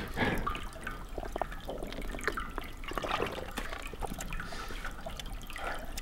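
A mountain stream on a hike toward Tokyo's highest point, its water trickling and splashing close by in a steady, unbroken flow with small drips standing out, and no voices.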